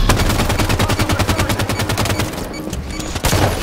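An Elite in the Halo 5 video game fires on the player in a steady, rapid stream of shots that runs for a few seconds, loud and close, then breaks off briefly before another burst.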